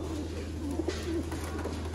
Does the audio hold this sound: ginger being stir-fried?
no